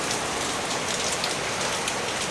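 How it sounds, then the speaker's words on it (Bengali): Heavy rain pours down in Kolkata, a dense, steady hiss of drops drumming on surfaces close by, unbroken throughout with no voices. "বন্ধুরা, আজকে বিশাল জোরে বৃষ্টি হচ্ছে।"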